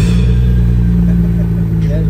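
A Nissan Skyline R34 GT-R engine idles after a cold start, a steady loud low rumble close by, with voices talking over it.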